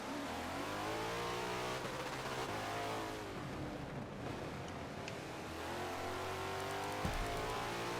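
Race cars lapping Indianapolis in a sim racing game during an eight-hour endurance event, a continuous engine drone that rises and falls with gear changes, fairly loud and close, with no voices.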